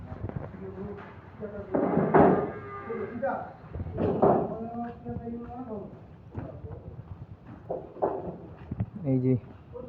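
Large dairy cows moo several times in long, low calls at a village cattle collection, the calls rising and falling over a background of faint clip-clop and shuffling.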